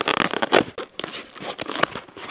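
Package from a back-to-school clothing haul being torn and pulled open by hand: quick bursts of ripping and crinkling plastic at close range, uneven and scratchy, with no voice.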